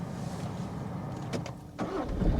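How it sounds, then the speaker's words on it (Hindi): A car engine cranks and fires up during a driving lesson, with a brief whirring start burst and the engine catching into a low running rumble over steady cabin noise. "स्टार्ट कीजिए गाड़ी को।"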